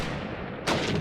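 A grenade explodes during a competitive Call of Duty esports match. After a rumbling, muffled lead-in, a sudden loud blast erupts near the end of the brief moment, with no talk over it.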